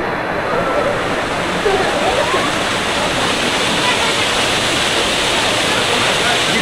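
Steady roaring rush of a waterfall in Igbaras, Iloilo, Philippines fills the scene, loud and continuous, with faint voices mixed into the constant spray.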